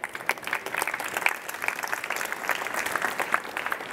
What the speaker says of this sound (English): all of them deserve a big round of applause